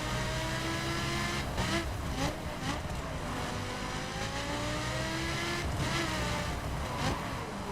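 A car slides through a drift in the racing video game The Crew Wild Run, its engine droning and revving steadily close up, with rising and falling pitch sweeps and a few brief scrapes of tire noise.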